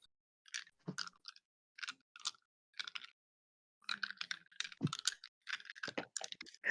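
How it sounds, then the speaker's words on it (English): Dice being rattled and clattered during a tabletop roleplaying game session, a run of sharp, irregular clicking bursts in quick clusters, close and moderately loud, with no talking. "It sounds like either someone is just like wrestling with the dice or trying to eat them."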